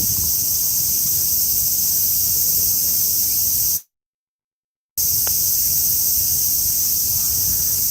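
A loud, unbroken chorus of cicadas fills a summer evening in a Tokyo residential neighbourhood by the Tamagawa, holding steady apart from a brief moment of complete silence midway.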